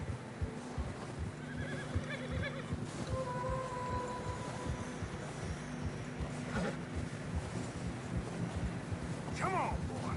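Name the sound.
horses struggling through fresh snow in Red Dead Redemption 2 video game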